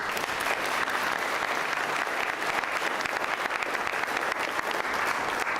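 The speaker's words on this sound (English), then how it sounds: "Let's give them some applause" Attendees at a PCC Foundation scholarship reception applaud the standing Foundation Board members. Continuous, evenly spread clapping from a sizable crowd stays at a moderate, slightly distant level without pause.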